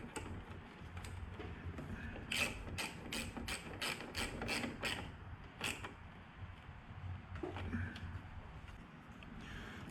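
A 10mm bolt is ratcheted tight to mount a universal vehicle horn, giving a quick run of sharp, evenly spaced clicks close up, faint and alone.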